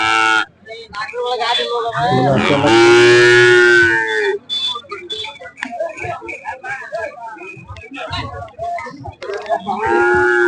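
Cattle moo loudly nearby at a cow market in Laxmeshwar, Karnataka, with a long drawn-out low call among other animal sounds and people talking in the background.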